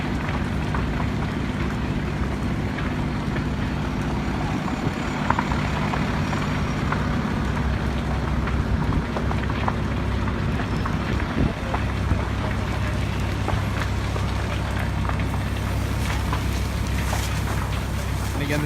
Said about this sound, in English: the sounds you're hearing, numerous engines here